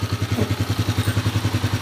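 A Honda TMX125 motorcycle engine, converted to 155cc, runs on its first start with a steady, fast, loud, thumping idle beat close by, with no voices over it.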